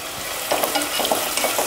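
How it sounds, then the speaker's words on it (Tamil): Onions and green chilies sautéing in a pan with curry leaves, a steady close sizzle broken by a few soft spoon-stirring scrapes. "இதை நல்லா வதக்கிடலாம்."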